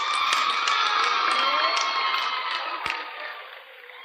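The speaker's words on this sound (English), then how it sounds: "let's give them a round of applause first" A crowd gives a steady round of applause and cheering for football players being honored, a dense roar of clapping that holds for several seconds and then fades slightly toward the end.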